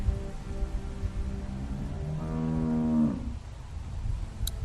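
A single cow moos in a long, low, rising call, fairly close, over a steady background hiss in The Walking Dead video game.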